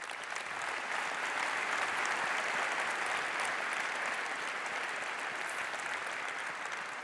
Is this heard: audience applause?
yes